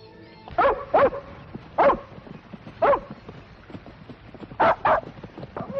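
Dogs bark loudly and close by in a 1958 western film scene, with sharp barks that come singly and in pairs spread across the clip, over a low steady background.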